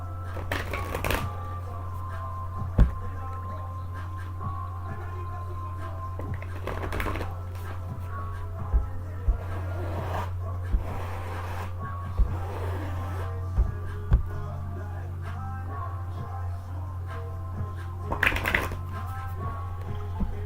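Tarot cards being shuffled by hand, with occasional sharp riffles and taps over a steady low hum, repeated irregularly across a longer stretch.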